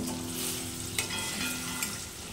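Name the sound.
paneer frying lightly in oil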